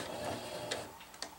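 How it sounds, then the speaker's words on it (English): A sewing machine runs a straight seam along the top edge of a jungle hammock, a brief close mechanical whir with quick ticking stitch clicks, no voices. "I'm going to sew a straight seam along the top"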